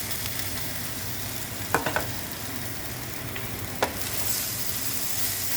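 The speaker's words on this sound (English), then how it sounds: "Got veggies going on here, some Brussels sprout, onions, putting out some pasta." Brussels sprouts, onions and pasta sauté in a deep dish pan, giving a steady soft sizzle with a few sharp utensil clacks scattered through it.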